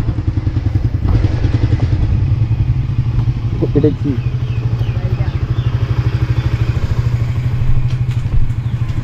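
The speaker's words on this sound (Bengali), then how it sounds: "সো বাইকটা নিয়ে আসতেছে আমার ফ্রেন্ডে" A new motorcycle's engine idles close by with a rapid, steady thumping pulse that runs throughout, under brief speech from a man and a few clattering knocks.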